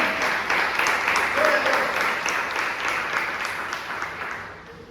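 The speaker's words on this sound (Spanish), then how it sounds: "¿Me pueden dar fuertes palmas al Rey?" Strong applause from a church congregation during a doctrine service, many hands clapping steadily and fairly loudly, slowly fading toward the end with a faint voice in the mix.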